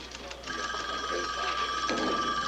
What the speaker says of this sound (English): Will somebody get that phone?